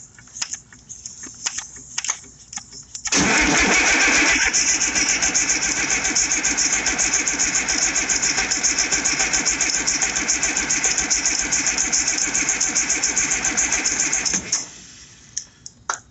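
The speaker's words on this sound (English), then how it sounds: "Try cranking it again." An IH 5288 tractor engine cranks for several seconds, then catches and runs loud and steady close by, a dense rattling diesel roar that holds for about eleven seconds before dropping away.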